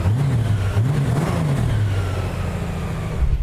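Honda Goldwing motorcycle with a flat-six engine revs up and down in short surges, a loud, close, continuous throaty drone with rising and falling pitch and no talking over it.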